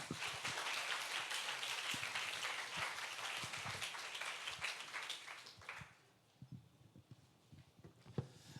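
An audience at a church youth worship service applauds to welcome a preacher, with dense, loud clapping that fades after about six seconds into a few scattered claps.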